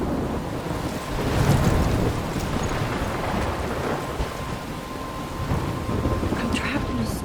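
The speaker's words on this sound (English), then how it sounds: "I'm trapped in a storm?" Thunderstorm with heavy rain in Life Is Strange: a dense hiss of rain with rolling thunder swelling early and lingering throughout, loud and continuous, no voice.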